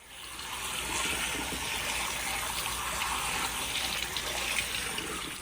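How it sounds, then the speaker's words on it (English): Water rinsing degreaser off Mazda Miata engine lifters, a soft, steady stream of running water, like a tap pouring continuously at a low level without pause. "we will have to rinse all of the degreaser off of these"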